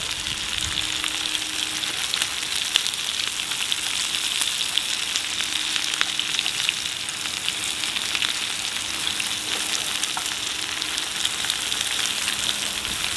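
Sausage and onions fry on a windproof gas stove outdoors with a loud, even sizzle that holds steady throughout, close up, with faint occasional scrapes and no voices.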